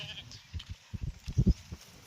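Sheep bleat faintly in a short burst of low, wavering calls from a village flock at pasture, heard alongside someone talking nearby.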